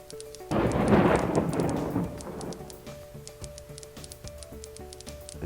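Thunder from a lightning strike in the WorldBox sandbox game rolls in as a loud rumble that slowly fades, with a patter of rain continuing beneath it.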